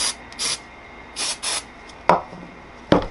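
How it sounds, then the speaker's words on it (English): Several short hissing spray bursts from an aerosol can of cleaner onto 1980 Kawasaki KZ750 LTD motorcycle brake parts, spaced irregularly, with a couple of sharp clicks or taps in between, close by and no talking. "one last good spray down before we start putting everything together"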